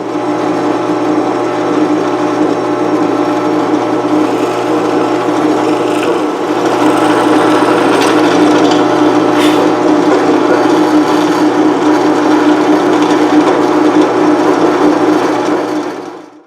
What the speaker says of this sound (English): this I'll just nibble down with some other bits on the drill press